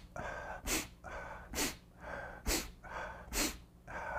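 Four sharp, forceful in-breaths through the nose, spaced about a second apart, as in the dragon breathing chi kung exercise. Each one is a brief, hissing snort heard up close against a quiet background.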